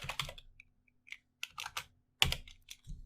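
Keys clacking on a computer keyboard as a web address is typed, a quick burst of close, crisp keystrokes followed by a few scattered taps and a final firmer press, with no talking.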